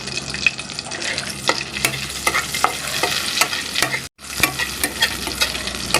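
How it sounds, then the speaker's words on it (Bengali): Whole cumin seeds crackle and pop in hot oil while being stirred, with sharp repeated pops over a continuous sizzle and a momentary break partway through. "তেলের মধ্যে আমি দিয়ে দিলাম গোটা জিরে"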